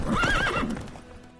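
Roach, a horse in The Witcher 3, lets out a clear whinny that rises and wavers before trailing off, loud and close, with faint hoof movement beneath it.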